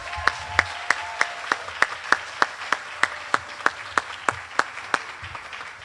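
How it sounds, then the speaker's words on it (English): Sparse applause at a school moving-up ceremony for a lower-school class, heard as single sharp claps at a steady, evenly spaced rhythm rather than a dense roar, moderately close. "Let's give them a huge round of applause."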